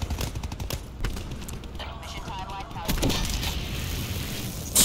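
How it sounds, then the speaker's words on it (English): Sniper rifle shots in the video game Call of Duty: Black Ops 4, several sharp cracks spread over a few seconds amid busy game sounds, with someone talking over them. "Hearing those sniper sounds is just too clean, bro."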